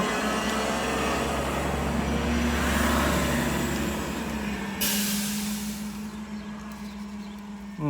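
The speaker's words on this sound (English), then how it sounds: "is that a garbage truck?" A garbage truck idles and rumbles close by with a steady low engine drone, its sound shifting partway through as it moves off, with no clear air-brake hiss.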